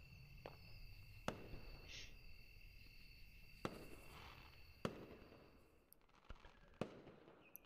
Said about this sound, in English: Ooh, pretty fireworks.